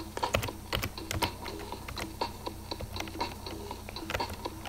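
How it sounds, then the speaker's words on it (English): Computer keyboard keys clatter in quick, irregular bursts as someone mashes buttons while playing a PC platformer game, sharp close clicks with no talking. "I'll press every keyboard button."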